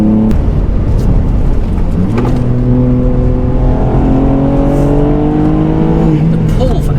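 Pumaspeed-tuned 290bhp Ford Fiesta ST MK8 accelerating hard on a race track, its engine note climbing steadily through the revs, loud and close from inside the car, with a brief dip partway through.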